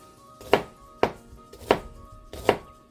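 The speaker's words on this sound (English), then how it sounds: "I'm gonna cut this in quarters." A kitchen knife chops through a head of cabbage, quartering it for sauerkraut: four sharp, distinct cuts about half a second to a second apart, close and clear with no talking.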